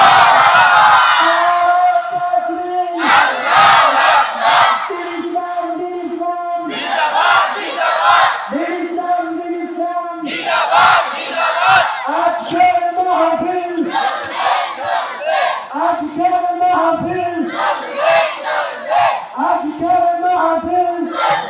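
A large crowd at a religious gathering shouts the Nara-e-Takbir chant in loud call-and-response bursts, a single lead voice calling and the mass of voices answering in repeated waves.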